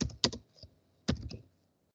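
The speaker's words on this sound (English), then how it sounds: "I'm typing FTP." Keys on a computer keyboard clack in two small clusters of quick, close taps separated by a brief pause, then silence.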